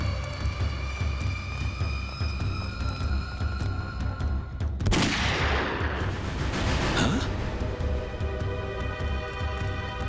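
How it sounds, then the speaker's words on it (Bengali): A gunfire effect from a Bengali crime drama: a sudden loud blast bursts midway through a backdrop of music and tones, followed by a sustained rumbling roar. "গুলি চলার শব্দ।"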